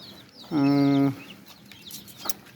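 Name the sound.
chickens clucking on a farm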